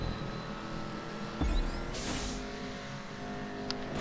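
Audi TT Quattro driving in GTA 5, a steady engine drone running throughout, with a brief thump and a short sharp transient near the end; no talking.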